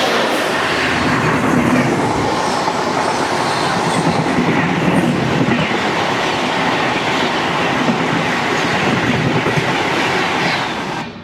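Golconda Express passing close by, a loud, continuous roar with rhythmic clickety-clack of wheels over rail joints, steady throughout and fading slightly at the end.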